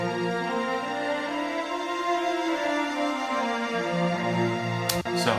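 Violins hold a sustained, layered chord with slowly shifting Lydian harmony, playing steadily and fairly loud, with a brief break near the end.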